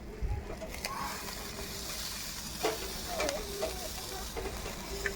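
Chicken brushed with butter cooking on a grill, with a low, continuous sizzle and hiss, quiet and close, broken by a few light clinks and scrapes.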